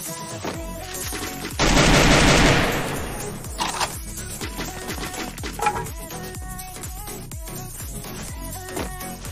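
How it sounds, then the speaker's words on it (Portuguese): Rapid bursts of gunfire in a video game shootout at a house crackle continuously, with one dense, loud volley early on and steady shots rattling after it, with no talking. "tá tendo tiro ali na casa, hein? Tá tendo troca."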